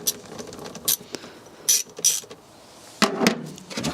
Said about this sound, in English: So I get a 10mm socket and the ratchet.